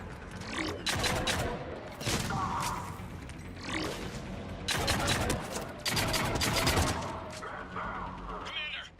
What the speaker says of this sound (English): Commander, we're getting a lot of mortar fire.